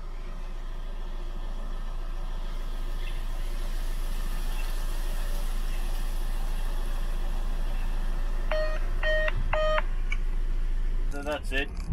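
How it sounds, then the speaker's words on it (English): A Ring Battery Spotlight Cam gives a short activation chime, three quick stacked tonal beeps followed by a brief flutter, heard over a steady low background hum near the end. "Leaves a bit of a chime when it's activated."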